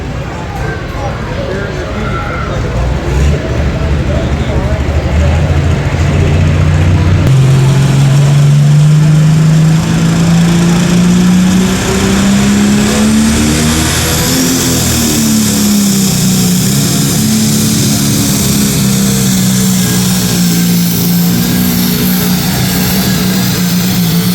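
John Deere pulling tractor Lethal Threat at a tractor pull, its engine climbing to a loud sustained roar with a rising pitch, wavering as it labours down the track, amid broad crowd and arena noise.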